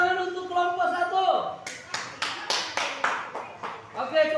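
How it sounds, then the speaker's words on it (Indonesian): A classroom group claps for group 1 during a school student project session, with rhythmic, fairly close hand claps following a teacher's spoken prompt, and voices heard around them. "beri tepuk tangan untuk kelompok 1."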